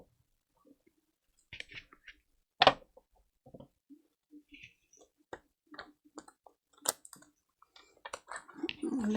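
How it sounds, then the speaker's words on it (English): Playing cards being shuffled and handled by hand, with sharp riffling clicks and flicks in irregular bursts, close and fairly clear against a quiet background. "These are hard to shuffle sometimes."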